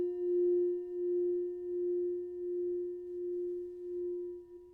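A struck bowl rings with one pure, steady tone that hangs evenly throughout, pulsing gently in loudness as it slowly fades.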